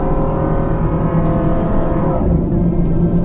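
Old Ford F-150 V8 pickup pulling a trailer while accelerating, heard from inside the cab: a steady, fairly loud engine drone that builds slowly, with no talking over it.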